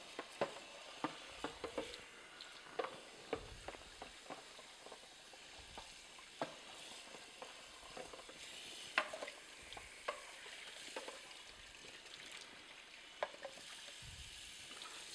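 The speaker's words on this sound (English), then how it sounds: "I'll just run some water through." Rinse water runs over the plastic parts of a Sana EUJ-909 commercial slow juicer, a soft, fizzy patter broken by scattered small clicks and taps, faint and close.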